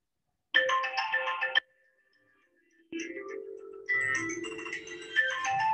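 A mobile phone ringtone plays in a room during a physics discussion, a bright electronic melody with a brief pause before it resumes and continues, moderately loud with no talk over it.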